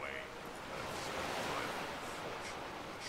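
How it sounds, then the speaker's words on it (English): Steady ocean surf washes along a shoreline in Skyrim, a continuous broad rushing wash at moderate level with gentle swells, heard alone without talk. "these waves are really, really distracting"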